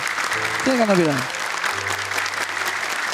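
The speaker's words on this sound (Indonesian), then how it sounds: "tepuk tangan dong untuk Kak Salma" An audience at an Indonesian hijab motivation event claps steadily for a young woman named Salma, a brisk, even patter of many hands, while a voice speaks briefly over the applause.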